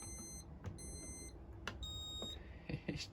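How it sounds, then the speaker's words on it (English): A Hoover VisionTech VTS715D21X washing machine, switched off, lets out several short high electronic beeps as its buttons are pressed, with faint clicks and low room noise in between. "it just beeps even though it's off. It's just, I've never seen a washing machine do that before."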